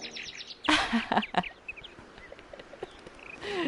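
Birds chirp in a flying video game, a burst of bright calls standing out near the start, then scattered lighter tweets and a final flurry at the end over a soft ambient bed.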